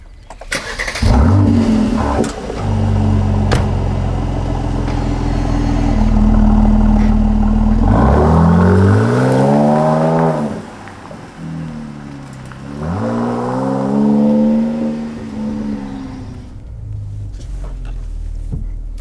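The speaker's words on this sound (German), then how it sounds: "Ganz wichtig hierfür das Fahrprogramm Sport Plus für maximalen Sound." A Mercedes-AMG C 43 4MATIC engine in Sport Plus mode revs hard several times, rising and falling in pitch with a deep, rumbling sport exhaust, loud and close with pauses between bursts.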